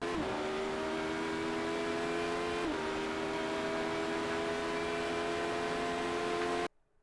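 A Radical SR8 race car engine drones steadily at high revs in fifth gear, then the pitch drops sharply in a quick double downshift to third before settling again; the sound cuts off abruptly near the end.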